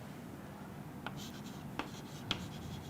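Pen or marker writing during a biology lesson, a few faint scratchy strokes over steady room hiss with no talk.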